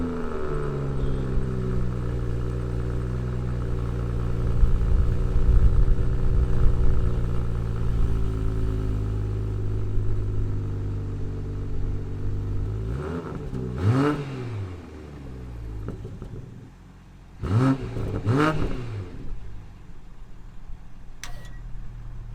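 A BMW M340i G20 drives under a steady engine drone that swells in the middle, then pulls through two distinct accelerating revs with rising pitch sweeps near the end; no talk.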